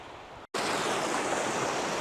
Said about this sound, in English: I think that's the Daddy waterfall over there.